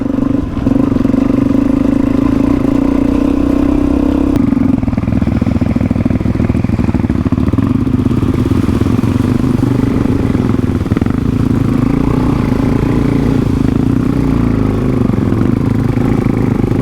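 Suzuki DRZ400E dual-sport motorcycles cross water, their single-cylinder engines droning loud and steady at close range with a rough, chugging mid-range roar and some clatter throughout.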